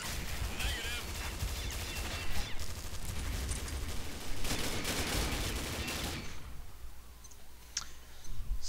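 Gunfire in the online shooter Combat Arms, with dense, continuous bursts of shots that fill the first six seconds and then give way to quieter sporadic cracks.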